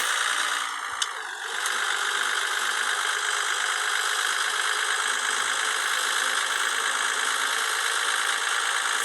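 Volvo F Series truck engine in Cargo Transport Simulator, driving at night: a steady, loud, even engine drone runs throughout with a brief dip and click near the start, no talk.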